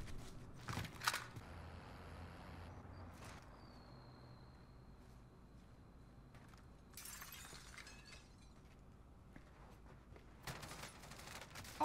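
Gunfire in the video game Rainbow Six Siege comes as a sharp close burst of shots near the start, then fainter scattered shots. A second louder cluster of shots follows later, with quiet gaps between the bursts.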